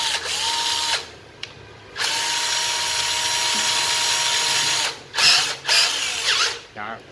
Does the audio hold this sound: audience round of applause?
no